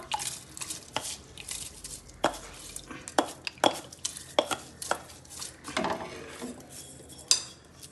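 A spoon stirring cooked rice in a pot, colored with leftover fried-chicken oil, giving repeated soft scrapes and knocks against the metal in an irregular rhythm, fairly quiet and close with no talking.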